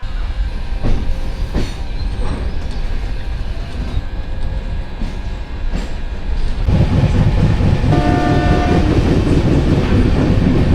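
A Vande Bharat Sleeper train running on rails, loud continuous rumble and rhythmic wheel clatter, growing heavier and louder partway through, with a faint horn-like tone later, no voices.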